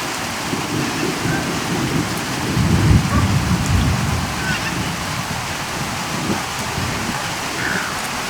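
Rolling thunder rumbles low and heavy through steady rain during a squall storm over Lake Illawarra, New South Wales, Australia, swelling to a loud peak midway before easing back under the constant hiss of rainfall.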